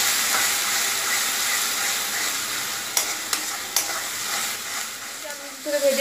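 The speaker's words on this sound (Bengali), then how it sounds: "দিয়ে আমি একটু ভেজে নেবো পেঁয়াজটা।" Onion paste frying in a pan for Bengali katla kalia, heard as a loud, continuous close sizzle with a few sharp clicks of stirring near the end.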